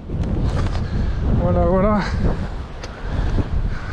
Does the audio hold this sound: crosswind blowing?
yes